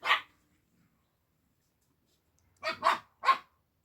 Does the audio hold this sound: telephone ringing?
no